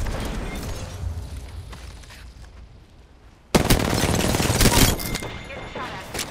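Gunfire in the video game Apex Legends during an Arena match: scattered shots at first, then a sudden loud, sustained barrage that tapers off near the end.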